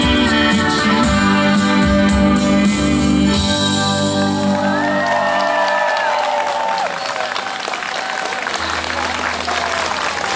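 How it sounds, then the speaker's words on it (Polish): A song at a concert in Rzeczenica in 2012 ends on sustained music, and loud, dense applause from a live audience rises and fills the rest, steady and close throughout. "pięknie Państwo klaszczecie"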